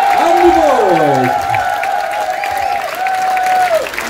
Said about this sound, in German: Meine Damen und Herren, gebt mir nochmal einen super Applaus.